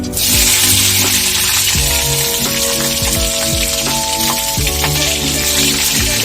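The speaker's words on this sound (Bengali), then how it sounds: "তেল গরম হয়ে গেছে, ফোড়নে কালো জিরে দিয়ে দিলাম, তার সাথে কাঁচা লঙ্কাটাও দিয়ে দিলাম" Nigella seeds and green chili hit hot oil and burst into a loud, crackling sizzle. Bright spattering pops ride over a steady hiss, and a few low tonal knocks sound underneath.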